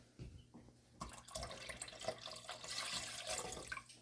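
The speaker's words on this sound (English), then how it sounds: "I'm going to now add the 1 cup of apple cider vinegar." Apple cider vinegar is poured into a pot during taco sauce making, giving a soft, close liquid splash and trickle that starts after a brief pause and runs steadily to the end.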